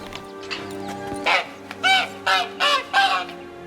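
A caged goose-like bird in the Witcher 3 video game honks four times in quick succession, loud bursts at a steady rhythm over a low game ambience with a faint hum.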